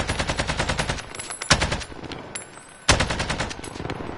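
Sustained automatic gunfire in a shooter video game, rapid evenly spaced shots in long bursts with two sharper heavy blasts, loud and close, with no talking.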